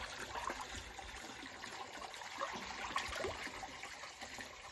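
Water running steadily into a tank as it fills for bathing: a faint, continuous trickling stream without pauses, heard from a little distance.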